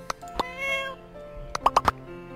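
Pinky the cat in My Time at Portia gives a drawn-out meow, then a quick cluster of three short, bright mews near the end, clear and close over a soft musical backdrop, with no talking.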